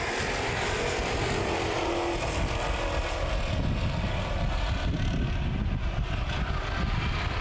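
Sports stock cars at Columbus Motor Speedway rounding turns three and four under green flag racing, a dense, loud, continuous engine roar from a pack of cars with no break.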